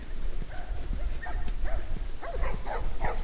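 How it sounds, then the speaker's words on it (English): Dogs in The Last of Us, played on PS3 through the RPCS3 emulator, give a run of short barks, yips and whimpering calls over a steady noisy game background, moderately loud and close. "These dogs are all accounted for."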